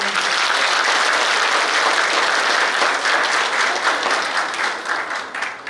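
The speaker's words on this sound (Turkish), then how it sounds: "Kuvvetli bir alkış istiyorum." Dense, loud applause from a large audience at a formal Turkish public event honoring a minister and his team, sustained steadily for several seconds before thinning slightly at the end.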